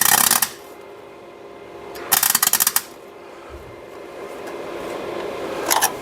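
A new MIG welder lays beads on thick, rusty steel of a Jaguar XKR chassis under repair, with harsh crackling bursts separated by quieter gaps and a low background hum, close up.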